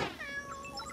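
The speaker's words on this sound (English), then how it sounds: "Kittens." Cartoon kittens in a George of the Jungle episode give a short, faint, high meow that quickly rises and falls, heard alone.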